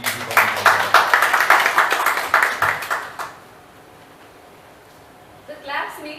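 Audience applause at a monthly business association meeting, a dense run of steady claps for about three seconds, then it fades out to quiet room tone with a brief murmur near the end.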